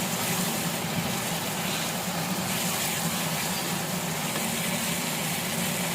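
Boiled potatoes with turmeric and salt are stir-fried in hot oil and spices, a continuous dense sizzle and crackle holding steady throughout, with no voices.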